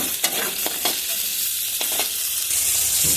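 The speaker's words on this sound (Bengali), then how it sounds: "দিয়ে আলু আর ঝিঙে একবারে লাল করে ভেজে নেব" Potato and ridge gourd frying over high heat in a pan, a continuous hissing sizzle broken by several scraping clinks of a spatula stirring, no talking.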